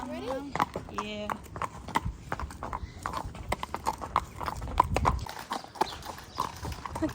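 A ridden pony's hooves clip-clop in a steady, uneven rhythm on firm ground at close range, with a whinny near the start and people talking over the hoofbeats.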